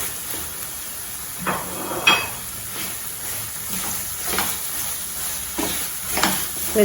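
Masala for cauliflower podimas sautés in a pan with a soft sizzle, while a spatula stirs in occasional scraping strokes, close and moderately loud, with no voices.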